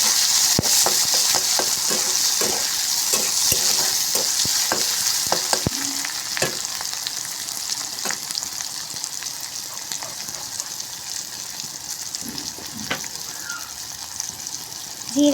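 Chopped tomatoes dropped into hot oil in a home kitchen pan, giving a loud, steady close-up sizzle and frying hiss with scattered pops and stirring scrapes, easing slightly after the first few seconds.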